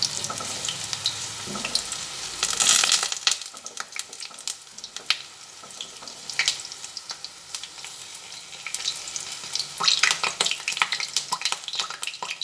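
Pakoras frying in hot oil for an evening snack, a steady bright sizzle and crackle with occasional louder bursts as pieces are turned, no voices.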